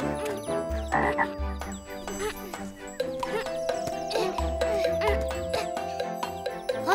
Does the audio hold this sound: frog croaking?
yes